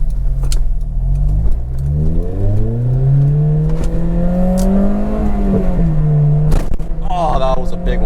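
An Acura RSX engine revs hard and accelerates, its pitch climbing through a gear, dipping, and climbing again, loud and close inside the car, with a quick shift or chirp near the end.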